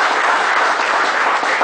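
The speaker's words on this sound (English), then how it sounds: "A great round of applause to these two great speakers." A workshop audience gives a short burst of steady applause for two speakers, loud and dense, with no talk.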